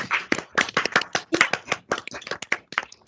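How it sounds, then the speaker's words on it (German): Participants in an online live session applaud through their microphones: a quick burst of dense, close hand clapping that fills the whole moment with steady claps and no speech. "macht mal euer Mikrofon auf und gebt erstmal dem Leonid einen riesen Applaus für den super schönen Peer Finder."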